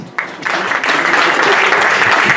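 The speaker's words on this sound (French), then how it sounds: "Allez, on applaudit le candidat numéro 6" Applause swells from an audience at a Miss and Mister pageant, starting with a few claps and quickly building into loud, sustained clapping from many hands.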